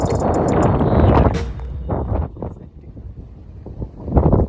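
Strong wind on foggy, cold Kottathalachy hilltop in Kannur, Kerala, buffets the microphone in heavy roaring gusts, then dies down briefly before another gust rises at the end.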